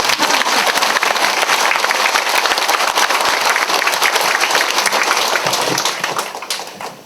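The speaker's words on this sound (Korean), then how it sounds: "박수 한번 쳐봐 그러면." A congregation claps in a cathedral during a Catholic spiritual talk, giving loud, dense, sustained applause that fades out near the end.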